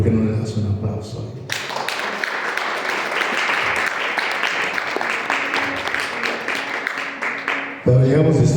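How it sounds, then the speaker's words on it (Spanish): A church congregation breaks into loud, sustained applause for about six seconds, dense clapping filling the room before speech resumes. "¿Por qué no le das un aplauso?"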